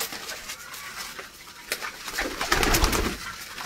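Pigeons kept by a racing-pigeon fancier coo softly nearby, a low murmuring backdrop broken by occasional wing flutters and a louder burst of flapping near the end.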